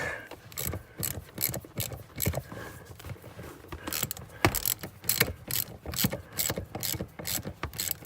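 A ratchet clicks rapidly and repeatedly in close, loud bursts while undoing very tight T50 bolts on a BMW seat, with brief pauses between strokes and no speech.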